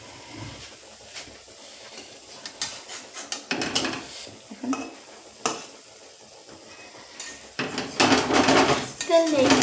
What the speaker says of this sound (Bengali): দেখুন এই কড়াই পিঠটা আমরা উল্টে দিচ্ছি।